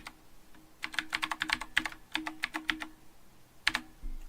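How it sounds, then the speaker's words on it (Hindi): Keys on a computer keyboard clatter in quick bursts as a password is entered. A run of close, crisp taps is followed by a pause and then a final few strokes, with no talk. "यहाँ पे मैंने पासवर्ड एंटर करना है"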